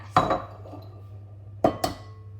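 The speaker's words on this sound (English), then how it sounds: "So let me crack my 3 large eggs first." Three large whole eggs cracked against a bowl for a chocolate flake cake batter, heard as two sharp close taps with a pause between them, each followed by a short ringing clink, over a steady low kitchen hum.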